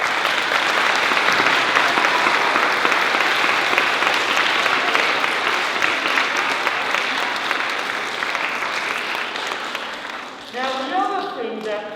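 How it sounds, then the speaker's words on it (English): Big round of applause from a live morning-service audience, sustained dense clapping for about ten seconds, fading near the end as a voice starts speaking over it. "Can you give yourselves a big round of applause?"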